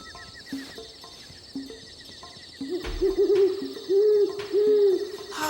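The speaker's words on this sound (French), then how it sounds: "Un oiseau. Eh oui, c'est un grand-duc d'Amérique." Deep, soft great horned owl hoots repeat in a slow series of short low notes, with faint background noise between them.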